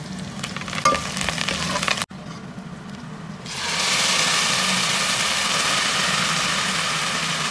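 Fennel seeds, onion and curry leaves are tempered in hot sesame oil for a village-style kudal curry. A brief clatter and a short pause come first, then a loud, steady sizzle rises and holds.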